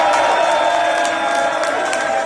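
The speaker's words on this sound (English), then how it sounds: "So his whole team is applauding, going nuts." A basketball team cheering and applauding at a 2023 MVP announcement for a Philadelphia 76ers player, a dense, loud roar of crowd noise and clapping that stays steady throughout the short burst.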